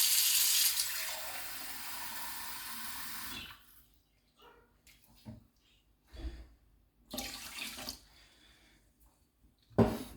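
Water pours steadily into a pot of unwashed basmati rice in a home kitchen for a few seconds, followed by faint scattered splashes and clinks.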